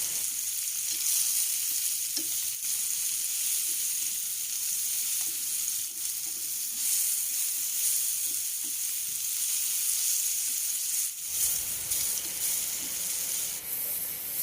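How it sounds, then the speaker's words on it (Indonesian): Banana pieces fry in hot oil in a pan over medium heat for chocolate banana bolen, giving a steady, dense sizzle that crackles and hisses without pause, with a few faint stirring scrapes and no talking. "Ini pisangnya akan saya goreng dulu ya."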